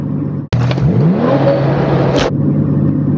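A Stage 2 tuned Porsche 911 Turbo launches hard from a standstill, a sudden loud engine roar that climbs steadily in pitch through the gears for about two seconds before cutting off, with a steady background hum.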